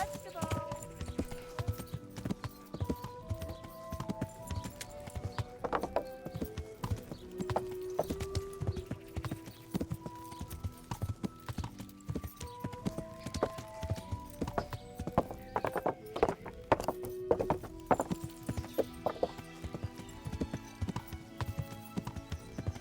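Horse hooves clip-clop in a steady rhythm with an occasional whinny in the video game Kingdom Come: Deliverance, mixed with background music and people talking over it.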